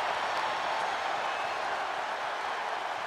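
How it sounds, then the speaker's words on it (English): A wrestling arena crowd roars in a continuous, even wall of cheering at a Cody Rhodes gauntlet match, loud and sustained with no individual voices standing out. "Listen to this crowd."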